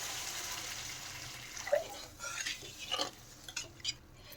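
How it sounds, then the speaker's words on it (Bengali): Water poured into a pan of spiced fish curry, a steady, moderate wash of pouring that thins out into a few light clinks and splashes toward the end. "এখন আমি জল দিয়ে দিলাম।"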